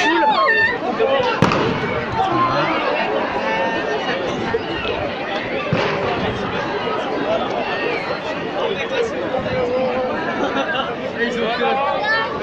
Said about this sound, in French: ce qu'on entend, malheureusement, c'est plus des pétards